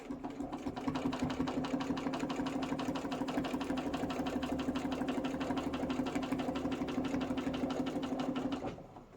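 A sewing machine stitches a quilted table runner with a ruler foot, a close, rapid, even mechanical chatter lasting several seconds before stopping.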